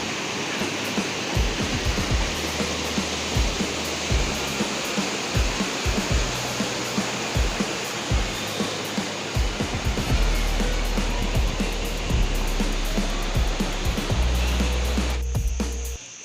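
Three rivers meeting and pouring down like a waterfall make a steady, loud roar of rushing water that never lets up for the whole stretch.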